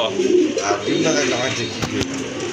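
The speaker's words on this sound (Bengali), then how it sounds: "খুবই চমৎকার অসাধারণ এক জোড়া ব্ল্যাক জিএনএস কবুতর" A pair of black pigeons coo softly at close range, a low throaty burbling call repeated across the moment, with someone talking over it.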